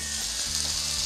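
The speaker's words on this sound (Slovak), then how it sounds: "Kladiem ich na rozpálený olej." Chicken breasts laid into hot oil, a loud, close hiss of sizzling that swells briefly as they hit the pan, alone without talk.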